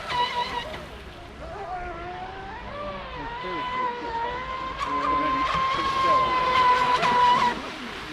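A Pro Boat SonicWake 6s RC boat, capable of 50 mph, whines past on the water with a rising and falling high-pitched motor tone that swells louder toward the end, with voices talking beneath it.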